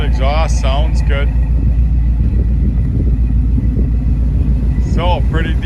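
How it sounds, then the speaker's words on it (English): A 1971 Ford F250 truck idles with a steady, loud low exhaust rumble throughout, while someone talks briefly near the start and again near the end. "Said you hear the exhaust, sounds good."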